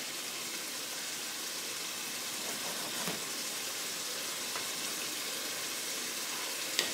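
Bacon cooks on the heat with a continuous, fairly faint sizzling hiss and a few small pops along the way.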